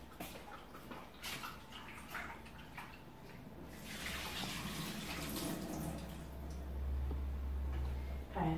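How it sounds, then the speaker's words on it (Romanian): Warm water used to rinse bacon pieces for a Romanian lettuce soup with egg is poured away, a steady splashing wash of water that grows louder toward the end, with no talk. "Așa, aruncăm apa."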